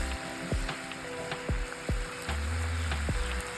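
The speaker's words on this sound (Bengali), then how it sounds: "ওই তেলেই আমি দিয়ে দিলাম হাফ কাপ পেঁয়াজ বাটা।" Onion paste frying in oil in a pan, a soft steady sizzle broken by several sharp clinks of a spoon against the pan.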